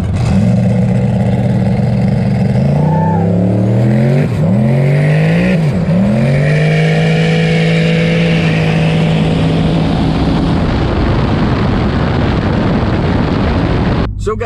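A RAM TRX and a turbocharged Silverado drag racing on a drag strip: engines roar and climb through gears as the trucks launch, then sweep loudly past and fade into a sustained rumble.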